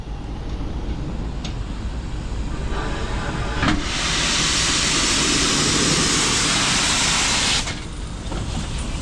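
Heritage steam train on the South Devon Railway running between Buckfastleigh and Totnes, a steady rumble of rolling wheels with a loud broad hiss of escaping steam swelling up for several seconds in the middle before easing back.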